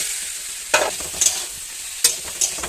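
Ridge gourd tipped into softened tomatoes in a pan for an oil-free gourd curry, then stirred: a low sizzle broken by four sharp scraping, clattering strokes, close and clear.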